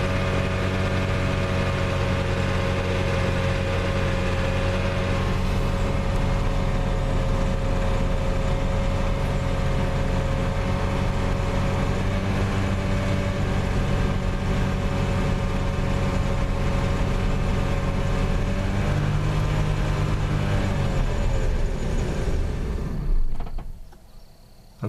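A 1987 Gran Fury car engine with a starting fault runs at a steady, loud idle for over twenty seconds, close up, then cuts out abruptly near the end.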